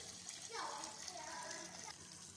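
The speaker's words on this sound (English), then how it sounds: "Wash it and under cold running water" Cold tap water runs steadily over cooked macaroni in a kitchen sink strainer, a continuous broad splashing rush with no voices.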